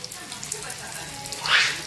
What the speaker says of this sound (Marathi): फ्राय व्हायला लागलं बघा मस्त